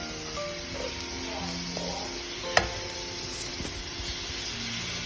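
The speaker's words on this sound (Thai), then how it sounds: "เอาหอมไปผัดค่ะ ผัดให้เขาเป็นสีทองก่อน ให้เขานิ่มแล้วก็เป็นสีทองเลยนะคะ" Shallots stir-frying in a little oil in a pan until soft and golden, a steady even sizzle with a single sharp clink of a utensil, with faint voices in the background.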